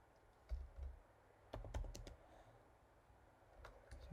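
Several soft keystrokes come from a computer keyboard while HTML code is typed, a few spaced clicks and muffled thumps over a quiet room background.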